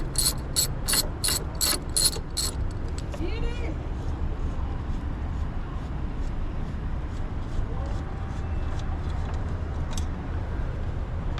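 A ratchet clicks in quick rapid bursts near the start while loosening the battery fastener on a second-generation Chevy Traverse (2018-2023), then lower mechanical handling and a faint voice carry on under steady background noise.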